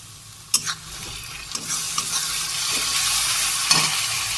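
Onion and spice paste sizzles in a pan while being stirred, with a few sharp scraping clicks of the spoon over a steady frying hiss that grows slightly louder.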